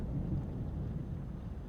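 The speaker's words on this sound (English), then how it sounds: "you're not scared of lightning and thunder," Thunder from a storm rolls as a deep, continuous low rumble, mixed with a soft wash of rain and no voices.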